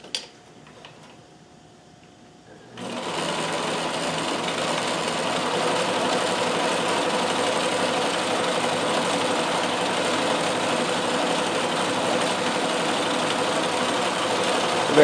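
A Riccar 570 stretch stitch sewing machine with cams running a satin stitch: after a quiet start it whirs up to a steady, close mechanical hum with fine rapid ticking that holds to the end.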